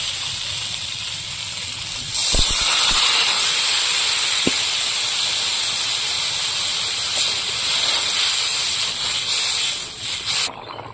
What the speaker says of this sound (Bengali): কষানো হয়ে গেছে, এবার আমি জল দিয়ে দেবো।